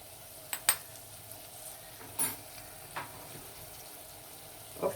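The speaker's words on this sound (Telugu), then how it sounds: "ఒకసారి తిప్పుకోవాలండి." A spoon or spatula stirs ground coriander and cumin powder in a cooking pan, giving a few brief scrapes and clinks spaced apart over a quiet background.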